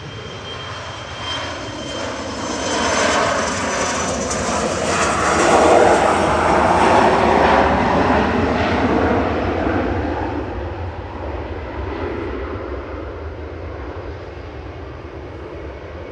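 An Embraer ERJ-145 jet at Manchester Airport builds to a loud, rushing engine roar that peaks midway and then fades as it passes, with no talking.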